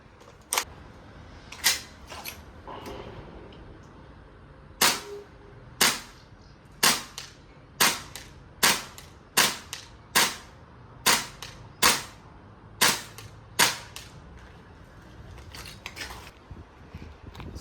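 Noveske MWS gas blowback airsoft rifle firing at a 20 meter target, about sixteen sharp, loud, clacking single shots spaced roughly a second apart, with no talk.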